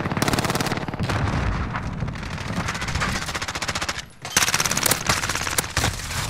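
Fast automatic gunshots in a video game, long rattling bursts of evenly spaced shots, loud and close, broken by a short pause before a heavier, punchier volley finishes.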